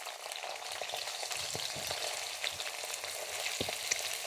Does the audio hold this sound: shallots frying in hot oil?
yes